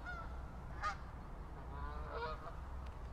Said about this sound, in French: Des oies. C'est beau, c'est la nature.